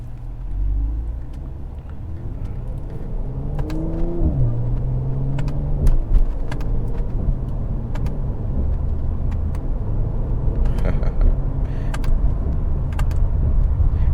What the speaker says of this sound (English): Just play with the paddles, get the burbles, and it's just nice.